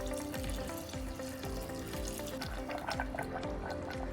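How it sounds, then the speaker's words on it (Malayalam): Boiled and cooled water poured into a grape wine mixture in a container, a steady close trickle with a rhythmic gurgle and no talk. "നന്നായിട്ട് തിളപ്പിച്ചാറിയ വെള്ളം മാത്രം ഇതിലോട്ട് ഒഴിക്കുക"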